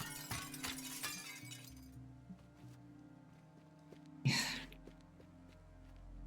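Glass shatters in the Teardown video game with one sharp, bright burst near the four-second mark, then a short scatter of falling shards over a low engine hum and quiet clatter.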